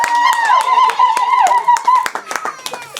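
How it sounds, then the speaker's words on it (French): Guests at a Congolese traditional wedding clap along as a room full of people applauds, close and lively, mixed with a loud tonal music or voice line and scattered laughter. "Applaudissez."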